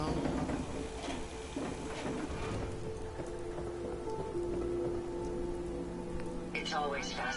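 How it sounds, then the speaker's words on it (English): Steady rain patters on a surface throughout in Fallout 4, with a low hum and faint background sounds mixed in. "Oh my, it's raining again."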